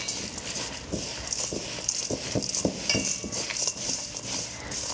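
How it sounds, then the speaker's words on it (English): Bare hands mix dry energy-ball ingredients with raisins in a kitchen bowl, giving a steady, close run of soft rustling, patting and scraping, with no talk. "once you have all these dry ingredients, you're just going to take your hands and mix it up"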